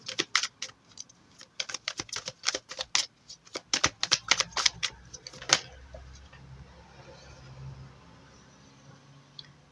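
A tarot deck is shuffled and a card drawn, giving a quick run of crisp, clicking card flicks for about five seconds, close and distinct. Quiet room noise follows.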